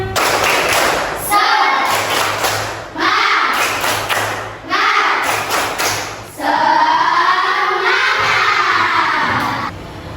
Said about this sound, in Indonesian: kita tes dulu ya. Tepuk semangat